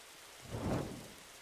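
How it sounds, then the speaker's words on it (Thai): Rain falls in a video game, heard as a brief hissing wash of noise that swells and fades within about a second, with a soft rumble underneath and no speech. "ฝนตกเลย"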